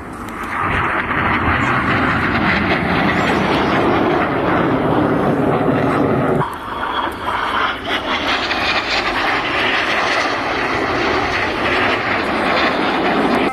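Red Arrows jet aircraft splitting apart in an infinity break manoeuvre at an air display, a loud sustained engine roar that dips briefly mid-pass and then swells again as the jets spread out.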